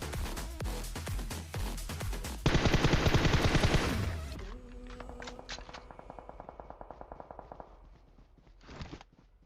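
Rapid automatic gunfire from a shooter video game, a loud dense burst of machine-gun fire followed by sparser single shots and short clattering volleys, with a final brief burst near the end.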